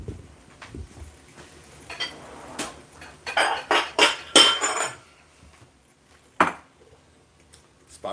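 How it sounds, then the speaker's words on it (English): A spiral slicer cutting zucchini in a home keto kitchen, giving a string of sharp clicks and scraping knocks that cluster into a louder burst mid-way, then a single hard clack near the end. "Spiral slicer, zucchini."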